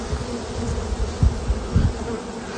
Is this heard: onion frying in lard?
no